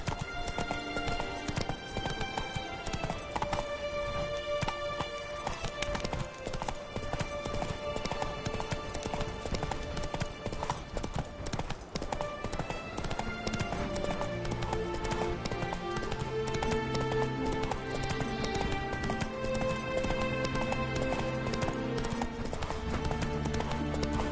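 Horse galloping in the video game Witcher 3, continuous rapid clip-clop hoofbeats with an occasional whinny, heard under steady game music throughout.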